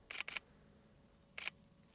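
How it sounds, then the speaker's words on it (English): Three quick mechanical camera shutter clicks for bracketed exposures, two close together and then a third after a short pause, crisp and quiet against near silence, during twilight real estate photography. "So once I'm good to go, I'm going to go ahead and hit the shutter."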